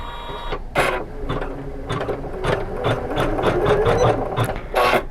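Embroidery sewing machine stitching out a holiday decoration design in a home craft room, a steady rapid mechanical whirr with periodic louder clunks and thread pulls, close and continuous with no talking.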